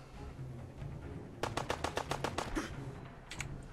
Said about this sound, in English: that must have been him with the assault rifle